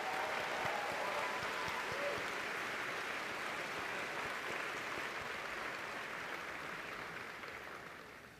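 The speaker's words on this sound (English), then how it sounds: "please join me in another round of applause" A large audience at a university commencement ceremony applauds steadily, a dense wash of clapping that holds even and then slowly fades toward the end.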